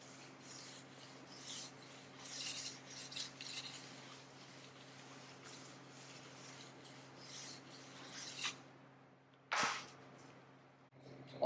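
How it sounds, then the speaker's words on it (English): A diamond stone is rubbed back and forth along a ski's side edge to polish it and smooth out burrs, giving faint, soft rasping strokes in an uneven rhythm under a low steady hum. "replace it with the diamond stone for polishing purposes"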